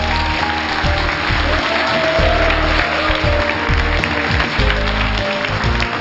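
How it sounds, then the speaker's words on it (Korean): An audience in a Korean broadcast studio applauds to welcome a guest with loud, steady clapping that lasts throughout, with faint voices beneath it. "박수로 만나보겠습니다."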